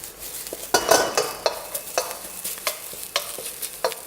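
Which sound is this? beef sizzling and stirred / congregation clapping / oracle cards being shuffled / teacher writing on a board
beef sizzling and stirred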